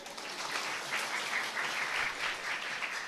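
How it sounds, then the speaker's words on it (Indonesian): A crowd applauds steadily for a few seconds, a dense patter of many hands clapping at moderate volume. "tepuk tangan boleh"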